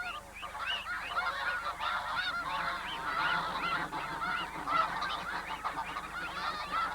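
Many wild geese honk continuously under a capture net in a dense, overlapping chorus, nearby and fairly loud, with no speech.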